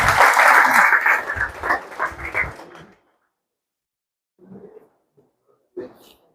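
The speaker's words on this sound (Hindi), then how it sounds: "जोरदार ताली इनके लिए" Applause from an audience at a financial investment seminar, a loud burst of clapping lasting about three seconds that then drops off, followed by silence and a couple of faint noises.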